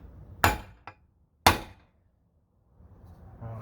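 Two sharp metallic hammer blows strike a punch against a 1969 Corvette C3 passenger door, the second about a second after the first, with a faint tap between them, close and loud in an otherwise quiet workshop.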